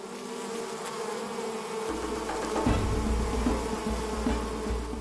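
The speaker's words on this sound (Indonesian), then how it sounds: "menaklukkan pasukan lebah sebanyak ini tentu saja bukan hal yang mudah" A dense swarm of wild forest honey bees buzzes continuously during a honey harvest, a steady droning hum that thickens and grows louder partway through, with no voices over it.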